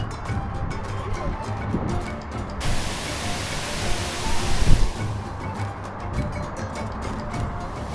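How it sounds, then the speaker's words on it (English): Broad steady roar of falling water at Boti Waterfall in Ghana, a dense continuous rush filling the whole clip with a slight swell near the middle, no talk over it. "I'm still at the Boti Waterfall"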